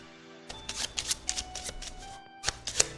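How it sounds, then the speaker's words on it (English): A deck of cards for the Caper Cards: Bells Hells tabletop game being shuffled, a run of quick riffling bursts, then a short pause and a final flurry, close and clear with no talk. "Shuffle it, lay down 5 cards,"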